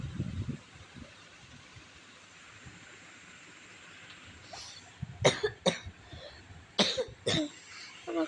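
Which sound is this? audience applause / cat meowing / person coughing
person coughing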